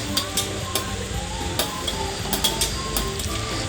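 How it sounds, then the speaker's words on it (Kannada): Chopped onions sizzle steadily in hot oil in a pan with bay leaf for palak pulao, under repeated sharp clinks and scrapes of stirring. "ಹಚ್ಚಿಟ್ಕೊಂಡಿರೋ ಅಂಥ ಈರುಳ್ಳಿನ ಹಾಕ್ಕೊತಾ ಇದ್ದೀನಿ."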